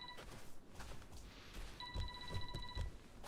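A telephone rings inside a video game in a short electronic burst partway through, heard over steady low rumbling game sound and some soft thumps, with no speech.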